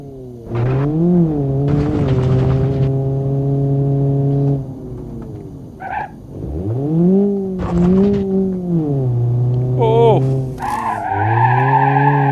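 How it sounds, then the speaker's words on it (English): In the BeamNG.drive driving game, a front-wheel-drive Bruckell LeGran 2.5 S with a blown radiator skids with tonal tire squeals over a droning, rising and falling engine, in several drawn-out slides separated by short gaps, close and loud. "that'd most likely just be a skid"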